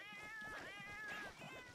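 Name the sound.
cat meowing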